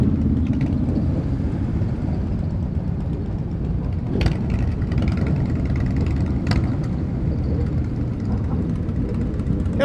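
A continuous rumble of motorcycle engines and loud modified exhausts fills the scene at the Cais de Gaia waterfront, with a couple of sharper bursts standing out from the constant drone.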